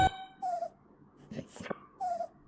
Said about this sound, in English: I'm looking after the puppy for Nicky.